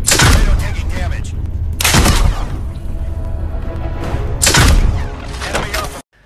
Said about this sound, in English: During naval battles, the various ships all sound weak, and there really aren't any difference in the sounds of different shells being